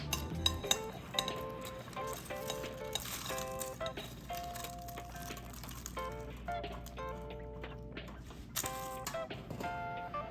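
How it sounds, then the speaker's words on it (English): Crispy air-fried tofu pieces being moved into a bowl, with light clinks and taps of utensils on dishware at close range over a background of tonal, musical beeping. "I'm gonna go ahead and put these in a bowl"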